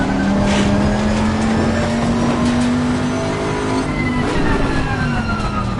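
Race car engine in Assetto Corsa Competizione, wet tyres and aggressive setup at Brands Hatch, roars loudly and steadily as it accelerates, pitch climbing through gears with a brief shift dip near the end.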